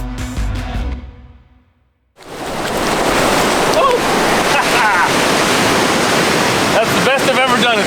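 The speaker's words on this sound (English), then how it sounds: "there are waves here" Ocean surf at the Coos Bay sand dune beach, a steady loud wash of breaking waves that fills the clip after a brief quiet gap near the start, with a few faint higher chirping sounds over the roar.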